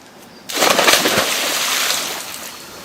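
A person jumps into the water of a cenote near Tulum, a sudden splash followed by a sustained rush and slosh of churning water that gradually settles, close and fairly loud with no talking.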